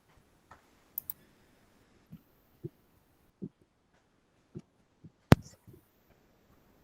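A few scattered keypresses on a computer keyboard while switching to a Greek polytonic layout, sparse single clicks spread over several seconds, quiet and close, with one sharper louder click near the end and no talking.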